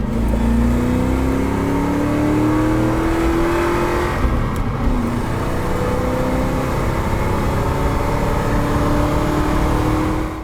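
A 1994-1998 Ford Mustang GT with a mild aftermarket catback exhaust revs loudly and close up, its engine note rising and falling in a continuous, throaty roar with no talk.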